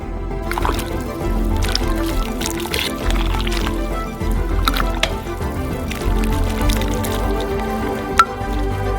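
Thick fish soup made from a giant sturgeon head being ladled into a plate, with wet sloshing, dripping and squishing sounds close up, repeated in several pours.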